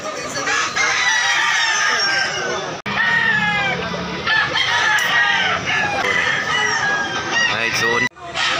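Roosters and chickens crowing and clucking at a busy chicken market, many overlapping loud crows and squawks filling the air continuously, with crowd noise underneath.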